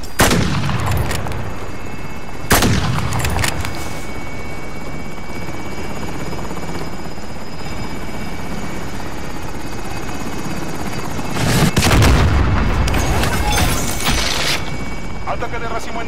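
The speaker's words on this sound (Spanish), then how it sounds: "Helicóptero aproximándose para el depósito." Helicopter in Call of Duty: Modern Warfare, a loud steady rotor drone that runs throughout, interrupted by bursts of gunfire and explosive blasts near the start and end, with voices talking over it.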